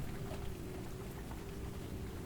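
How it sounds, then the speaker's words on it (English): Steady, dense rain pouring down at night, a constant even hiss with low rumbling underneath and no breaks or voices. "It's 10 p.m. in the pouring rain."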